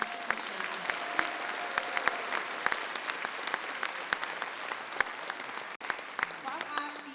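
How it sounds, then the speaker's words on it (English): Steady applause fills a concert hall as an audience at a spring concert claps together, a dense wash of hand claps at moderate distance with no voices over it. "Can we give Harry a big round of applause?"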